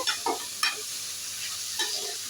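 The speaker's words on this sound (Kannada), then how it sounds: "ಎಣ್ಣೆಯಲ್ಲಿ ಫ್ರೈ ಆಗಬೇಕಿದು ಎಣ್ಣೆನೂ ಜಾಸ್ತಿ ಏನು ಬೇಕಾಗಲ್ಲ ಸ್ವಲ್ಪ ಎಣ್ಣೆ ಆದರೂ ಸಾಕು ಬೇಯುತ್ತೆ" Bread toast fries in a little oil in a pan, with a soft steady sizzle broken by a few brief stirring scrapes and clinks, close up with no voices.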